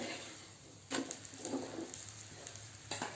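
Moong dal cheela frying in a pan over a medium-to-high gas flame, giving a soft, steady sizzle with faint scraping bursts as the batter crisps underneath.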